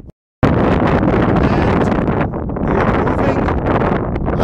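Strong, steady wind buffeting the microphone on a mountain ridge near the summit of Mt. Yale in the Colorado Rockies, a loud continuous roar with gusts, after a brief moment of silence at the start.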